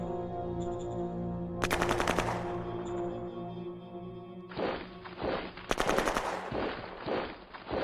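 Sustained bursts of automatic weapon fire in the strategy war game Shadow Empire, two loud volleys of rapid rattling shots around the middle and near the end, over a steady low hum with thuds between.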